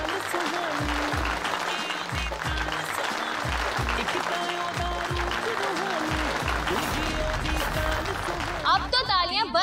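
An audience at a televised music championship finale applauds, a steady roar of clapping under loud music with a heavy beat and an announcer's voice throughout.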